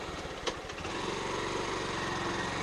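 A Honda CB 160F motorcycle engine runs steadily during a test ride, a close, continuous buzzing hum with a brief knock near the start.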